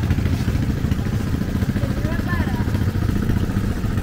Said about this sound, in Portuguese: Olha só, só tá funcionando o motorzinho agora.